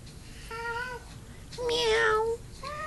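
A cat meows three times close by, a short call, a longer drawn-out wavering meow, then a third starting, each clear over quiet room hiss.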